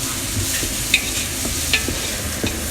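Chopped onion and a little garlic frying in a pan, a continuous close sizzle with a few light stirring scrapes and taps, no voices.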